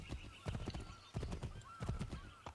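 A horse in the video game Assassin's Creed 3 whinnies over steady clip-clopping hooves, close and fairly loud, with the neighs rising and falling across the stretch.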